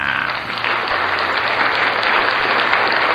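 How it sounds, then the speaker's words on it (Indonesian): A class applauding during an ICT lesson, steady broad clapping from many hands that holds evenly throughout. "Berikan tepuk tangannya."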